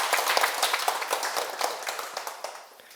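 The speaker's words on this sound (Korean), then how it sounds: "이분 명상 끝내주게 잘한다고 우리 박수 한번 치세요." Lecture audience applauding a meditation demonstration at a Sunday talk, a dense patter of many hands clapping, steady and fairly near, easing off slightly toward the end with no talk over it.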